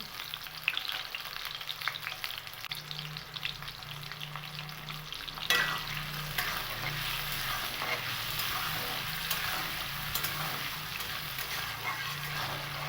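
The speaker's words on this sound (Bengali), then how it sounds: "এবার আলুর মধ্যে আমি সামান্য একটু লবণ আর হলুদ দিয়ে আলুটাকে খুব ভালো করে ভেজে নেব" Potatoes fry in a wok with salt and turmeric, making a steady, dense sizzle close by, with stirring scrapes and a brief clatter partway through.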